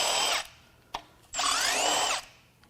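Two bursts of a power tool whirring hard as it unbolts the windage tray from a failed Kia Sorento Lambda II V6 engine, each about a second long with a brief tap between them.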